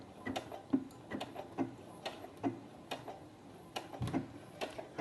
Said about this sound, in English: press the start button. It's going to do 3 stitches on the spot because I've got the automatic lock stitch turned on